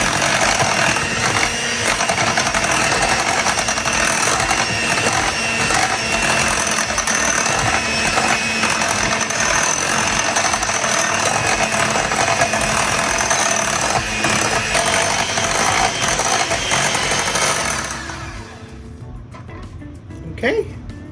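An electric hand mixer beats white wine cake batter with a loud, steady whirring buzz that runs continuously and then cuts off near the end, with some talking.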